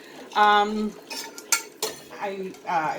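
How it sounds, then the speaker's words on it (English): Dishes and cutlery clatter and clink in a kitchen sink during washing up, a few sharp clanks and scrapes close by, with no one talking. "I'm going to kind of keep it on low while I do wash dishes up."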